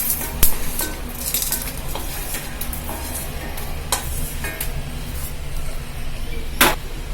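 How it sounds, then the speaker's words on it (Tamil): Dried red chillies frying lightly in oil, a steady soft sizzle broken by a few sharp pops and clinks of a utensil against the pan. "இந்த எண்ணெயிலே சும்மா லைட்டா இந்த காஞ்ச மிளகாயும் நம்ம வறுத்துக்கலாம்."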